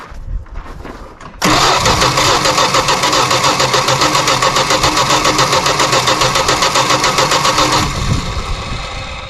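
A 1973 Dodge Dart Swinger barn find, unstarted for 29 years, cranks briefly and then catches, settling into a loud, steady, slightly lumpy running roar heard up close before easing off near the end.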